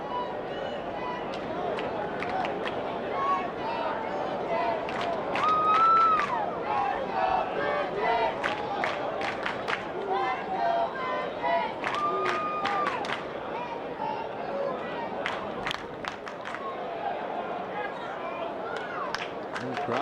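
Baseball stadium crowd of about 35,000 at a Boston Red Sox at Toronto game, a steady loud roar of voices with bursts of cheering, whistles and clapping, under a commentator's talk.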